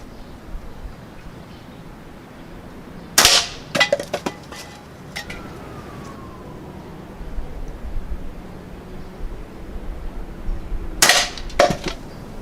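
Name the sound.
Umarex Ruger Superpoint .22 air rifle firing pellets at wood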